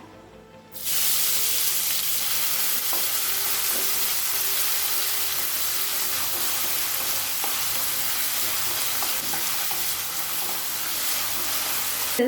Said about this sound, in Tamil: கடாயில் தேவையான அளவு எண்ணெய். இப்போ பொடியான இருக்குன்னு 2 வெங்காயத்தை சேர்த்துக்கலாம்.